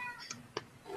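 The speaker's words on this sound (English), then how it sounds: "My cat has decided to join me down here, so you may hear him meowing in the background." A house cat meows once or twice, briefly and faintly, in a quiet room, with a soft high tone at the end of the clip.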